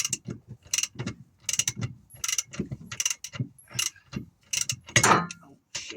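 Ratchet wrench tightening the rear shock absorber nut on a Peugeot 205, rapid clicking bursts in an uneven stop-start rhythm, close and fairly loud, with no talking.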